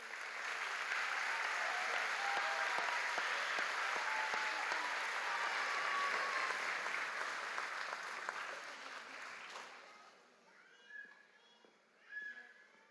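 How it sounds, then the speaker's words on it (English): A large graduation-ceremony audience applauds steadily for about nine seconds, a dense wash of clapping that fades out, followed by a few faint sounds near the end. "Please give these outstanding students a round of applause."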